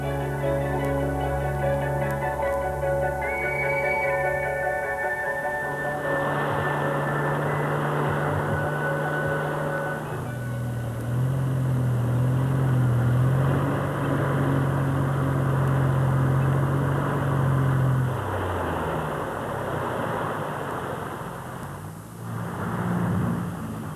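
A Catalina seaplane landing on the calm water of Lake Victoria, a steady droning propeller engine that shifts in pitch and holds on loudly throughout.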